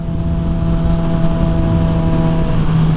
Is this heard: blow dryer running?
no